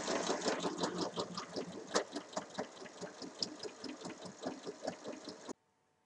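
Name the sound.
sewing machine stitching the side seam of a pouch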